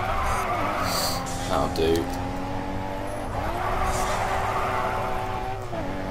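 A racing car drifts through corners in the Grid 2 racing video game, engine tones rising and falling with skidding tire squeal, while someone talks over the gameplay.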